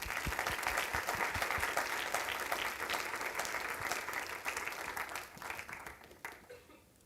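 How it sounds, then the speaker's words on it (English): Audience applause at the opening of a student biosensor competition event in Eindhoven, dense and sustained clapping across a large crowd that gradually thins out and fades toward the end. "Give yourselves a round of applause"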